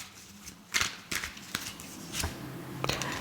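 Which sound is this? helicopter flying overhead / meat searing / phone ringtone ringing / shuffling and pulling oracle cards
shuffling and pulling oracle cards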